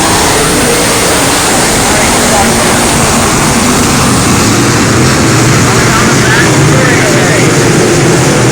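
Sprint cars racing on the oval at Beckley Motor Speedway, a dense continuous engine roar with crowd-level wash filling the whole stretch, loud and unbroken, with an announcer's voice mixed in.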